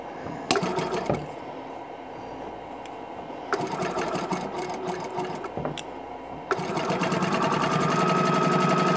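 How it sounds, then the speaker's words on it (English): A sewing machine stitches a quilt block in short bursts of rapid mechanical chatter separated by brief pauses, then runs steadily and a little louder to the end, close and clear with no talking. "now I'm going to put this under my needle and sew from here to here"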